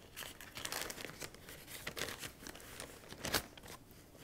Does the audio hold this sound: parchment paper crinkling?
yes